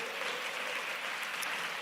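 Steady, dense applause from a church congregation, a continuous wash of clapping throughout the short moment.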